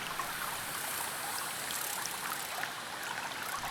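Sandstone springs feed small streams in the northern Vosges forest, their water trickling and babbling in a steady, close, continuous flow with no voices.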